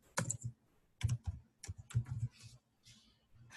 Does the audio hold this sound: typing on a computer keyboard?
yes